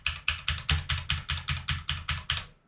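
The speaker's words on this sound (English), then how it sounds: "On the other louder keyboard," Close, crisp clatter of a loud computer keyboard being typed on, about a dozen evenly paced keystrokes in a steady rhythm before stopping.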